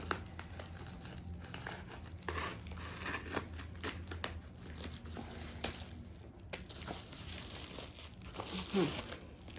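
Plastic packaging crinkles and rustles steadily up close as something is unwrapped, with occasional sharper crackles.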